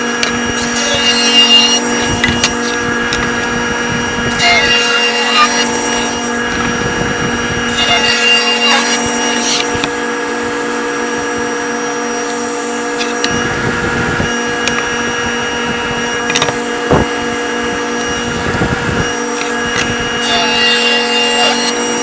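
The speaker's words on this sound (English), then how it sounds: "what I'm going to do is I'm going to cut those to the sizes that I need" A power saw cuts cherry wood boards to size for an end table top, giving a loud, continuous whining drone with rasping cutting noise that rises and falls throughout.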